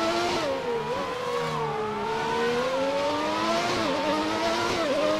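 A Ferrari 641 Formula One car races around the Monaco street circuit in the F1 2019 video game, its high engine whine rising and falling steadily with gear changes, loud and continuous, with no talking.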